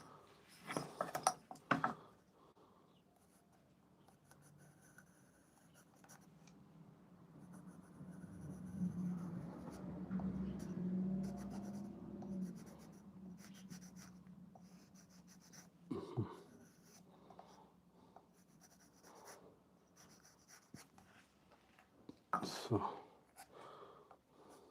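Knife cutting into wood while carving a wooden kuksa cup, a close scraping, rasping stretch of strokes in the middle, framed by brief bumps and handling noises with a person speaking at times.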